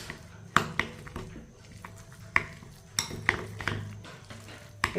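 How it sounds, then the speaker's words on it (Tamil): Spoon clinks and scrapes against a bowl, mixing oats with grated carrot, chopped green chilli and salt, sharp irregular metallic taps standing out over soft stirring, close and fairly loud. "இதை நல்லா எல்லாத்தையும் மிக்ஸ் பண்ணிக்கிடுவோம்."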